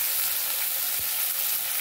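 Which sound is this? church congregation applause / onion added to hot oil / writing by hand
onion added to hot oil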